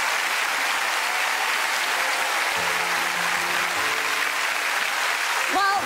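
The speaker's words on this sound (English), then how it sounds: "huge round of applause for Joan, Steve, Davina and our friend and friends" A TV studio audience on the ITV show Surprise Surprise gives sustained loud applause, a dense even wash of clapping and cheering throughout, with faint tonal music joining in the middle and a voice briefly at the end.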